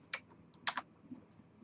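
A few quick computer keyboard keystrokes tapped close by while entering an IP address, short sharp clicks in small clusters over a quiet background hum.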